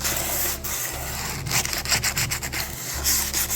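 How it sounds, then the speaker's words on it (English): Car parts for a 98 OBS truck being sanded smooth by hand before painting, a steady, close rasping rub with short strokes and brief pauses throughout, no talking. "you have to sand them down so they can be smooth surface"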